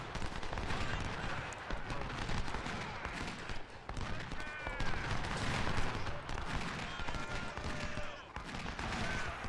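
Sniper rifle volleys in Ultimate General: Civil War at Fredericksburg crackle as dense, distant-sounding rattles of musketry, continuous and layered over low rumble throughout.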